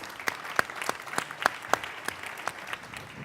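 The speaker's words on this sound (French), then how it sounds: "Bravo pour ça, on peut vraiment t'applaudir." Scattered clapping from a small audience, sharp individual claps at an uneven rhythm, close and moderately loud.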